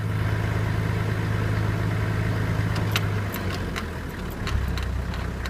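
A 2003 Toyota Land Cruiser 70 Troop Carrier's diesel engine idles smoothly and close by, a steady low rumble whose pitch drops partway through, with a few light clicks on top.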